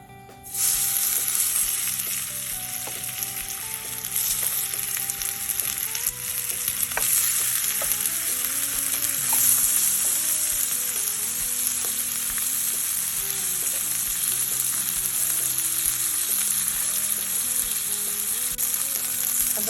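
Onions coated in a spice and fry mix fry in hot oil, giving a continuous, even sizzle and crackle that holds for the whole stretch over soft background music, with no talking.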